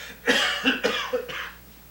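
A short burst of three or four dry, raspy coughs close by on a theatre stage, followed by a softer trailing cough.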